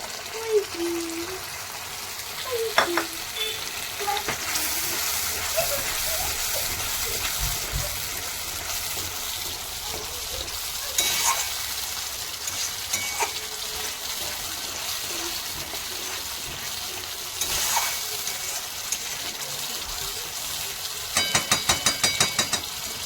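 Peas, raisins and spices sizzle and fry in hot oil in a wok while a utensil stirs and scrapes around the pan, with occasional clinks and a rapid rattling near the end.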